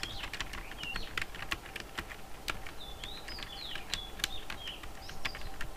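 Computer keyboard typing: quick irregular key clicks in short bursts, fairly faint and close, over quiet background noise with faint chirps.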